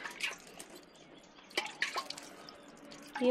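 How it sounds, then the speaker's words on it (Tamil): Water is sprinkled by hand onto freshly planted cauliflower and potato seeds in a home garden, producing soft scattered drips and splashes in small bursts, quiet and close, with no talk. "இப்படி தெளித்த மாதிரி தண்ணி தெளிச்சுக்கணுங்க"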